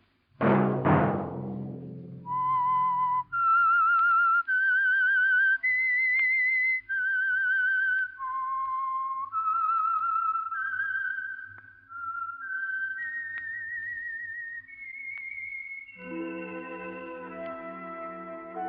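A clear, melodic whistled tune of sustained notes rising and falling in steps, heard alone after a brief low musical swell, ending with a band chord, the theme of 1947 radio drama The Whistler.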